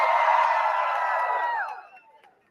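A street-show audience cheers and whoops together, a loud sustained roar of many voices that fades out over the last second.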